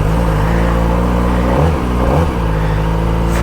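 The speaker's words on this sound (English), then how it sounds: "4-cylinder engine roars into life" A Kawasaki Ninja ZX-4RR 400cc four-cylinder motorcycle with standard exhaust runs just after starting, a loud, close, steady buzzing idle with a brief dip in pitch partway through, no talking.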